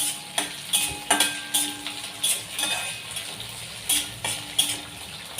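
Chopped onion sizzling in hot oil in a pan while being stirred, a steady frying hiss broken by repeated spatula scrapes and clinks against the pan, close and fairly loud.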